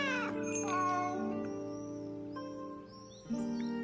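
A cat meows repeatedly in a samurai video game, with a drawn-out, slightly wailing cry that rises and falls over steady game music, ending with a short final mew.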